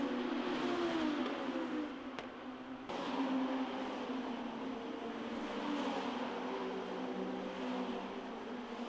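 Midget race cars on the final lap at the Pau Grand Prix street circuit, a continuous buzzing engine drone of several cars passing at mid distance, swelling and fading with shifting pitch.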